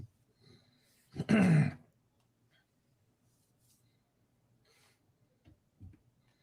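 A single throat clear, close and fairly loud, about a second long, with faint small clicks and a quiet short noise afterward in an otherwise still room.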